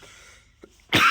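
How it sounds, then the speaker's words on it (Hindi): A single sharp cough bursts out close up after a quiet stretch with a faint earlier throat noise. "खांसी आपको वीडियो में सुनने को मिलेगी, माफ़ करिएगा।"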